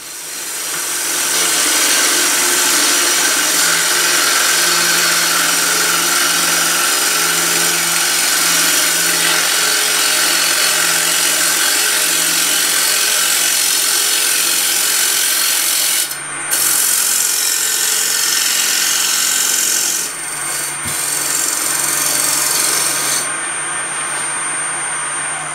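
A lathe gouge shapes the outside of a scrap-wood bowl, giving a loud, continuous scraping hiss with a steady hum underneath and brief breaks as the tool lifts near the end.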